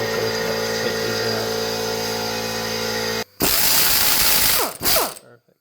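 A ratchet working bolts loose on a 2016 Subaru WRX turbo engine during teardown: rapid continuous clicking pawl, loud and close, then a brief pause and a few more short ratcheting bursts.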